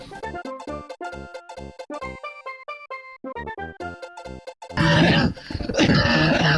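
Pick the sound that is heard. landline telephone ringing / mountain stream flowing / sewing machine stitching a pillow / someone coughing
someone coughing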